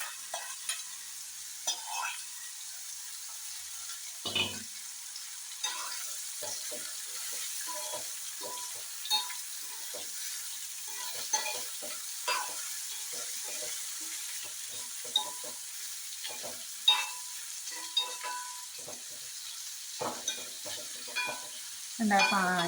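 Carrot and snake gourd stir-frying in a pan give a faint, continuous sizzle, broken by frequent scraping taps and clicks from a spatula over about twenty seconds.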